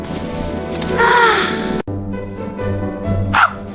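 A dog barks a few times in a cartoon-style household scene, loud and close, with yips and a whiny bark among background sound.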